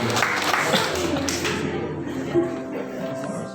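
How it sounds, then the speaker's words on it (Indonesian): Applause from an audience at a high school student council candidates' debate, loud and dense at first and then thinning and fading over a few seconds, with a faint voice near the end. "Berikan tepuk tangan sekali lagi untuk jawaban-jawaban dari para pasangan nomor."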